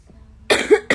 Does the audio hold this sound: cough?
yes